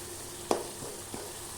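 Tomato, onion and masala powder cook together in a pan for a drumstick fry, a faint low sizzle broken by two brief scraping stirs.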